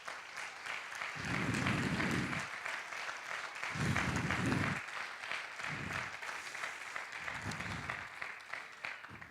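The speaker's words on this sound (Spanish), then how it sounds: "Dale un fuerte aplauso al Rey." A church congregation applauds loudly and steadily, with dense clapping throughout and a deep voice booming over it in several loud, swelling bursts.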